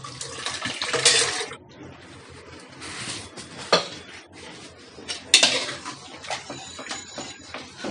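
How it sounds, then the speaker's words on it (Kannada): Cooked, mashed dal is tipped into a pot of boiled vegetables for mixed-vegetable sambar: metal utensils clank and scrape against the vessel while wet, splashy pouring comes in a few close bursts, without speech. "ಈಗ ಇದನ್ನ ನಾನು ತರಕಾರಿ ಏನು ಬೇಯಿಸ್ಕೊಂಡಿದ್ವಲ್ಲ ನಾವು, ಅದರಲ್ಲಿ ಹಾಕ್ಕೊಳ್ತಾ ಇದ್ದೀನಿ."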